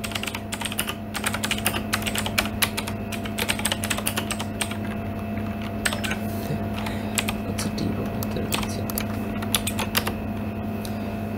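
Fast, steady clicking of a computer keyboard as Java code is typed, close and continuous over a low electrical hum, with no talking.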